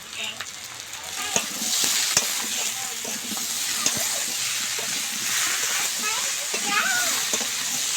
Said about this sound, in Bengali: পেঁয়াজটার সঙ্গে সবজিগুলো খুব ভালোভাবে বেশ কয়েকবার নাড়বো।